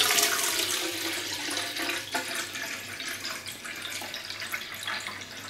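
A Grohe EuroSmart basin tap runs at low pressure, about 0.2 bar, into a jug, giving a steady, close hiss of falling water that holds evenly from start to finish with no voices.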